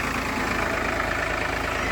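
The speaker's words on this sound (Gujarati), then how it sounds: "ટ્રેક્ટર કરી દીધું ચાલુ" A diesel tractor engine idles close by, a steady throbbing chug with a dense, even rumble and no other sounds.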